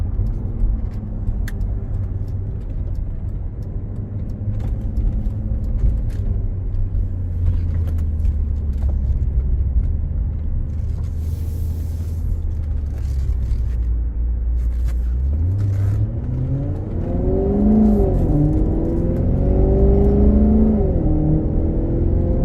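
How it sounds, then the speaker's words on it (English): A Maserati GranTurismo with about 10,942 miles, driven in sport mode, holds a steady low engine rumble before its revs climb and swell louder in the final seconds, with no talking. "Car sounds awesome."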